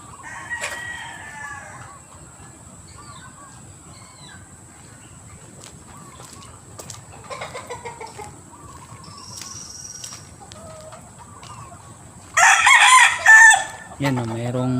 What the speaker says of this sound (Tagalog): madaming manok dito mga kasiyan